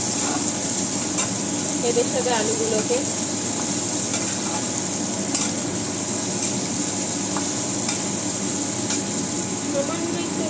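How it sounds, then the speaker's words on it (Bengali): Potatoes frying and being stirred in a pan for paneer capsicum masala, a steady sizzle with scraping stirs running throughout beneath a person talking. "আমি একটু ভাজা ভাজা করি"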